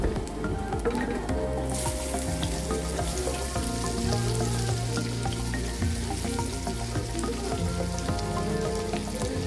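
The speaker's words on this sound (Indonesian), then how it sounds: "Kemudian saya mau menumis bawang merah dan bawang putihnya." Shallots and garlic sautéing in a hot pan, a loud continuous crackling sizzle with steady tonal sounds running underneath throughout.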